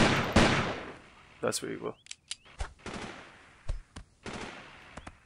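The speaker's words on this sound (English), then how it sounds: "we got shots heading towards us now" Gunfire in the game Delta Force 2: loud bursts and scattered single shots crack close by, with a brief spoken line over them.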